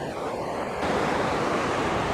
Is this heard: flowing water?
yes